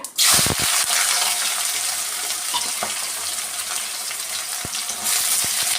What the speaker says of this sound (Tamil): வானல்ல எண்ணெய் ஊற்றி கடுகு போட்டு